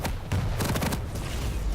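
Rapid gunfire bursts from a Quake duel match, a dense stream of loud weapon shots and impacts with one sharper blast standing out partway through, all in the foreground with no speech.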